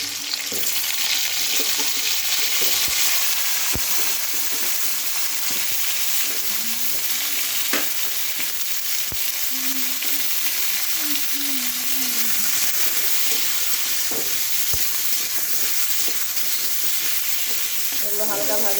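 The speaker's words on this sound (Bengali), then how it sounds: "এগুলো হালকা ভাজা হয়ে তারপর আমি শাকটা দেবো।" Vegetables fry and get stirred in a pan for a spinach curry with bori, giving a steady, close sizzle with scattered clinks and scrapes of the spatula across the whole stretch.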